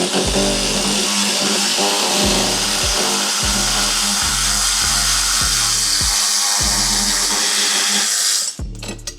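Power tool, probably an impact driver, undoing the steering cable bolt on a Trim X jet nozzle assembly, loud and close, with a steady whir punctuated by a regular series of rapid hammering pulses before stopping abruptly.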